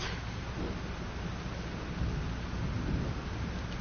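Thunderstorm in the video game Life is Strange, a dense, steady wash of rain with low thunder rumbles swelling midway through, loud and unbroken.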